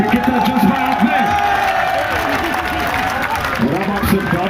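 Large outdoor political rally crowd at a long march, cheering, whooping and clapping in a continuous loud roar, with an amplified voice speaking over it.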